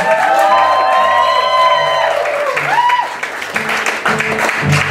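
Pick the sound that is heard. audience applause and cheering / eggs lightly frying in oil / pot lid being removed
audience applause and cheering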